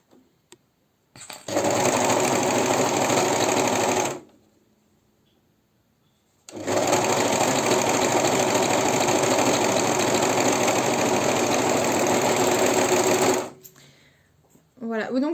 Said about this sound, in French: Et enfin, je viens coudre donc mes côtés culottes.